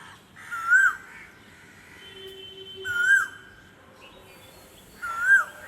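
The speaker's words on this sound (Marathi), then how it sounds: "आमची ना सकाळ सकाळची गुड मॉर्निंग ना रोज ज्या कोकिळे सोबत होते, रोज सकाळ सकाळ इतका आवाज करते ना" An Asian koel calls in the morning near a home, three rising whistled notes spaced evenly a couple of seconds apart, clear and fairly close over a quiet background.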